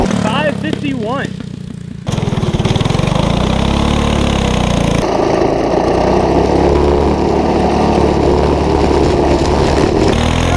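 A Predator 212cc go-kart engine starts and runs loud and close, settling into a steady rough idle then holding a higher drone, with a person's voice heard briefly at the start.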